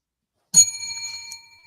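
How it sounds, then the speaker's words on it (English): A single bell strikes sharply in a radio studio during a talk show, then rings out with a clear, fading metallic tone. "Oh, Brian got the bell too"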